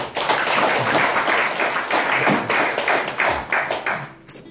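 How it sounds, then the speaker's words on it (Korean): Applause from a crowd at a year-end party for an organization's executives fills the room with steady, dense clapping that holds loud throughout and tapers slightly at the end. "다 같이 박수 한 번 더 보내십시오"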